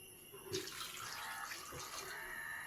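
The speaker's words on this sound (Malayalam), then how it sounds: "വെള്ളം ഒഴിച്ചു കൊടുക്കാം." Water splashes and pours steadily into a cooking pot of papaya and taro curry for a couple of seconds, a soft running gush close by.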